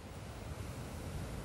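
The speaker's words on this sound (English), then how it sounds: "it is certainly windy here in Mandurah" Strong wind buffeting a microphone on the coast at Mandurah as a storm front arrives, a steady loud roar of gusting air with surf-like rumble and no voices.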